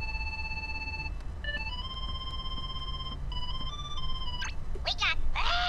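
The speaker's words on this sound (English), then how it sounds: "Sora, somebody's calling us on the gummy phone." Ringing of the gummy phone in the video game Kingdom Hearts 3, a steady electronic ringtone of held tones that shifts pitch a few times before brief chirpy game sounds close it out, with no talking over it.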